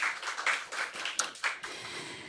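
A seated forum audience gives scattered, fairly close applause for the panelists at a startup networking event, a few irregular claps that thin out after a couple of seconds.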